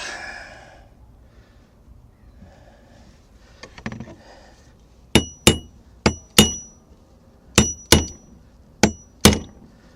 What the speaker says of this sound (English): I'm going to use my hatchet for a hammer.